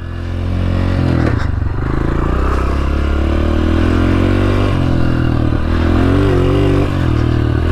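A Honda CRF125 dirt bike rides along a grassy straight, its engine loud and close for the whole stretch, the pitch rising and falling as the throttle opens and eases off.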